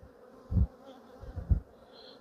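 Bees hum in a low, steady drone with a couple of louder buzzing swells as insects pass close by.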